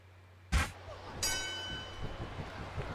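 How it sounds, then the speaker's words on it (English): In the WWE SmackDown vs Raw 2009 wrestling video game, a ring bell gives a sharp thump followed by a bright metallic clang that rings on, with faint crowd noise underneath. "There's the bell, and here we go."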